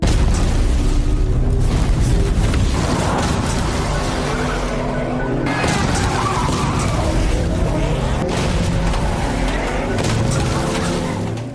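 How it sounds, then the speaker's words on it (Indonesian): Bomb blasts and a motorcycle chase from a Korean mafia action film: loud, dense continuous roar of engines, skids and explosive booms filling the whole stretch, with no talk. "Lucy terus saja melemparkan bom rakitannya satu persatu ke arah Suyo."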